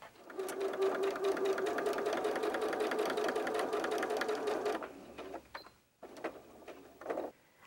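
A sewing machine runs steadily for several seconds while stitching the lining of a fabric box pouch, then gives a few shorter, stuttering bursts, close and clear with no one talking.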